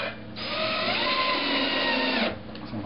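An electric screwdriver drives screws into a homemade stomp box drum machine, giving a close, high-pitched motor whine that runs steadily for about two seconds before cutting off.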